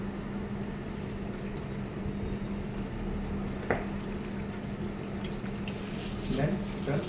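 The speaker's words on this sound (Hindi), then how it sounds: "आप पूरा जो शॉवर है ना एकदम एंड तक मत लेके जाओ, नहीं तो पानी अंदर जाएगा।" A shower sprays steadily during a hair wash, a continuous close hiss of running water with a brief clatter near the middle and some splashing toward the end.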